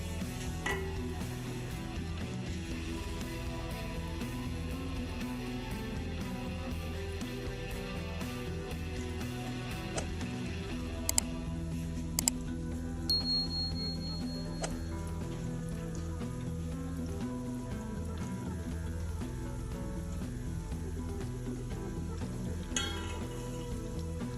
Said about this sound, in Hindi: अपने विंग्स को डालेंगे इस ऑयल में